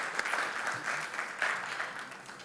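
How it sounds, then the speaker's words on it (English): An audience at an education talk breaks into applause, a fairly soft, even patter of many hands clapping at moderate distance for a couple of seconds. "Give him a round of applause as well"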